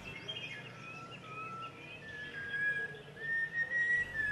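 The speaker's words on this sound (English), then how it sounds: "red-whiskered bulbul" A red-whiskered bulbul sings from hill country: clear whistled phrases that rise and fall repeat steadily through the clip, fairly close, with quieter background birds and no voices.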